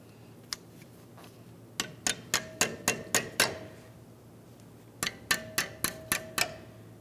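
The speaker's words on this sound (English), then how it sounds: "Give both of the ends with the pins that slide into the caliper a loving bonk" A hammer taps the brake pad clip pins into the caliper on a 2010-2013 Ford Transit Connect front brake: one light tap, then a quick run of seven sharp metallic bonks, a pause, and another six.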